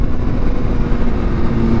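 A Kawasaki ZX6R fitted with an Austin Racing GP1R exhaust rides along at a steady, loud engine drone, sustained throughout with no talking.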